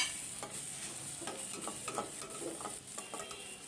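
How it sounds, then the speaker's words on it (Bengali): Grated coconut frying and being stirred in a pan for a spicy mourola fish chachhari, with a steady close sizzle broken by repeated scraping strokes of the spatula, no talking. "নারকেল কোড়া একটু ভাজা ভাজা করে নিচ্ছি।"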